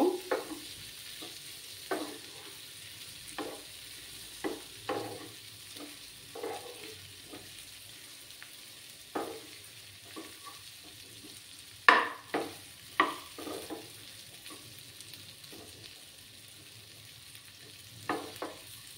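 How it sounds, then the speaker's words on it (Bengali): Potato masala sprinkled with garam masala fries quietly in a pan under a low, steady sizzle, punctuated by regular spatula knocks and scrapes against the metal. "দিয়ে এটাকে ভালো করে একটু ফ্রাই করে নেব"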